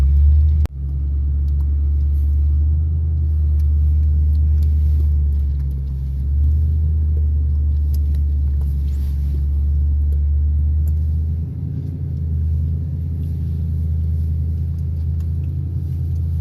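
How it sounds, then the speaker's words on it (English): A Toyota Tundra truck rolls along off-road, its engine a low continuous rumble close by, steady and heavy, with a brief bump near the start and no talking. "doing some off-roading in the Tundra"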